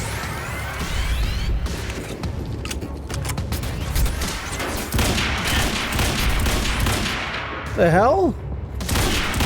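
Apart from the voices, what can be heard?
gunfire from the video game Quantum Break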